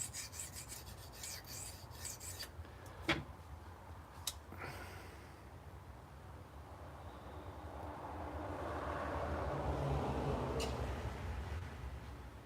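A blade is sharpened against an abrasive stone in a steady, faint rasping rub that continues throughout and swells slightly toward the end, with a couple of sharp clicks early on.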